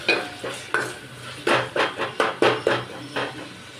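A spoon stirs tomato rasam in a metal pot after a pinch of turmeric goes in, scraping the sides in a quick, steady series of about a dozen clinks, with no voices over it.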